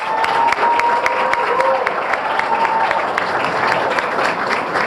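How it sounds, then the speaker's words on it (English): Applause from the audience at a Dominican Day Parade scholarship awards event, steady and sustained throughout, with voices and cheering audible in the crowd. "he deserves a round of applause."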